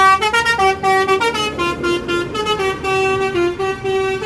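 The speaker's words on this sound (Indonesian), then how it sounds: "bus yang memiliki telolet masing-masing" A bus telolet horn sounds as a P41 bus pulls out of a terminal, playing a loud, close melodic run of bright honking toots in quick rhythmic bursts with short gaps between notes.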